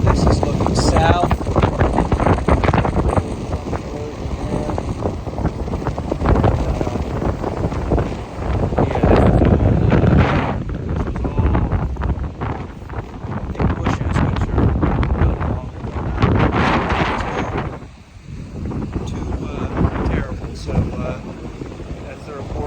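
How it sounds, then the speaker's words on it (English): Strong post-Hurricane Nicole wind roars across Moorings Beach in South Vero Beach, Florida, buffeting the microphone with a loud, continuous rush that surges and briefly dips near the end. "Very windy right now."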